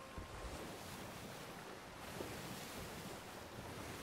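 Sloshing seawater and wind surround a sinking boat in Sea of Thieves, a faint continuous wash of surf and gusty rumble with no voices over it.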